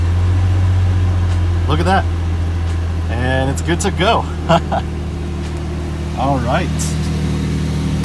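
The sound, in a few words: 4th gen Toyota 4Runner engine starting and idling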